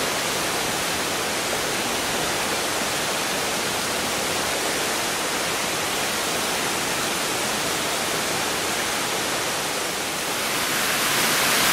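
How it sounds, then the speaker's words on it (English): Waterfall pouring into a deep, humid gully in Java, a steady broadband roar of falling water that holds constant and fills the scene throughout with no voices. "We see this incredible waterfall"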